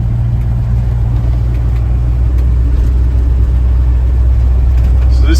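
A 1952 Ford F1 pickup with a Ford 302 V8, Edelbrock RPM Performer intake and 600 CFM Holley carburetor runs close by, a loud steady low rumble throughout.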